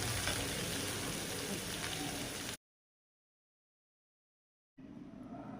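Fish frying in hot oil, a dense, loud sizzle that cuts off into silence, then returns more faintly after a gap of about two seconds.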